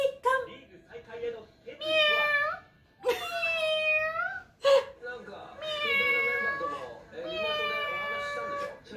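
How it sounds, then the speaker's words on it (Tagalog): A cat meows again and again at close range, with several drawn-out, rising and falling calls separated by short pauses. "Meow!"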